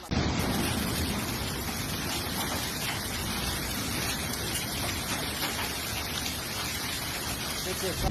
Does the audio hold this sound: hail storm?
yes